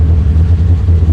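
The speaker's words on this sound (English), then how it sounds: "Let me start this thing, and I'll just yell at you what I'm doing." A 1972 BMW 2002 engine idles steadily right after starting, a loud, close, continuous low rumble with no talk over it.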